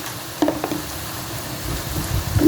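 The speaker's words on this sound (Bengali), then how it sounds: "পেঁয়াজটা একেবারে ব্রাউন করে ভেজে নিলাম এখন এই পর্যায়ে দিয়ে দিব আমি দুই চামিচ আদা রসুন পেস্ট" Browned onions frying in a pan with ginger garlic paste just added, a steady low sizzle with a few spoon scrapes and knocks at the start, fairly close and continuous.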